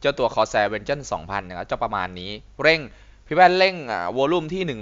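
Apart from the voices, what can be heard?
No everyday noises stand out.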